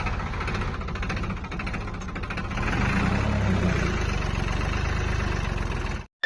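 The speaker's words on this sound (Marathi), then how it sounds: "केला ट्रॅक्टर चालू" A tractor engine runs at a steady idle, a low continuous chugging hum that grows slightly louder partway through, then cuts off abruptly.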